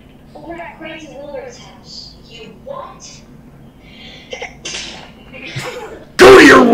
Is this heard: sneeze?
yes